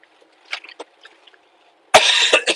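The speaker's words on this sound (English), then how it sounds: "another loud cough." A loud, close cough bursts out near the end after a stretch of faint, scattered small noises, a single harsh rasping fit lasting about half a second.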